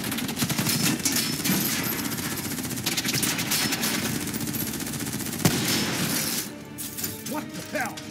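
Dense, continuous automatic gunfire from a war video game set in a futuristic Singapore, rapid bursts running nearly the whole time with a sharp crack near the end, loud and close, mixed with game sound effects.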